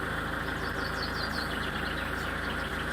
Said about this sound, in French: Donc on va démarrer le camion.